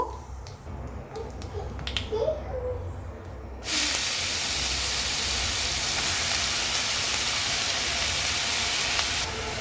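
Grated potato dropped into hot oil with whole cumin seeds in a wok: a few quiet clicks and pops, then a sudden loud, steady hiss of frying that holds to the end.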